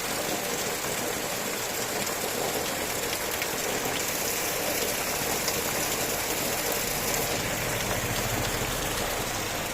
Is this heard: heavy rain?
yes